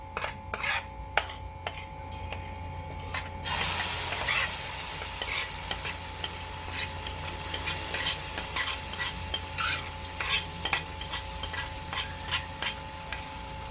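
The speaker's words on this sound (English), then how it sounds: "I'm gonna start and fry this up a bit." Curry paste hits hot oil with a sudden loud sizzle after a few light clinks, then fries steadily while a utensil scrapes and stirs the pan with repeated clacks.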